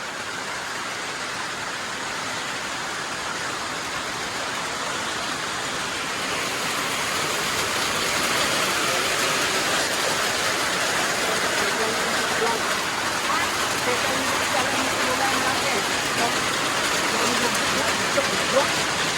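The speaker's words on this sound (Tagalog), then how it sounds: "Ayan o, lakas ng ulan o." Heavy rain pours steadily as a dense, continuous hiss, growing a bit louder partway through, with faint voices in the background.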